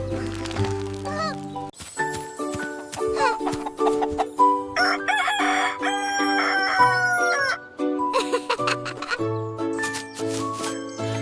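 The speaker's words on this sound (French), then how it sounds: "Le chant du coq réveille dans des balles de foin" A rooster crows amid a children's counting song, its call woven among bright melodic tones, clucks and tinkly jingles throughout.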